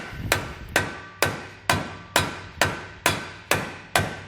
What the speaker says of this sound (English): we can use a block of wood, sort of hit it